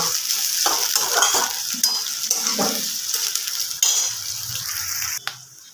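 Onions frying in a pan for a pepper chicken curry, a steady close sizzle broken by repeated stirring scrapes of a spatula against the pan, with no voices.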